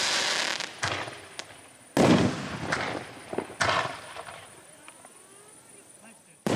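Sivakasi firecrackers set off for Diwali, loud close bangs and crackling bursts at irregular intervals, each sharp report followed by a short fading rattle.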